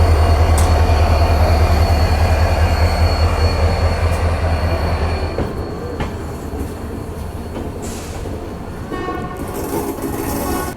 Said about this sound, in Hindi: और यहाँ पर हम एक तरीके से ओवरटेक कर रहे हैं भावनगर टर्मिनस हरिद्वार एक्सप्रेस को।